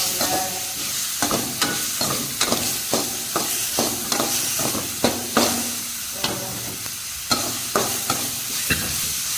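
Spice masala frying in a pot for a village-style snail curry, stirred with repeated scraping strokes at a steady uneven rhythm over a continuous close sizzle.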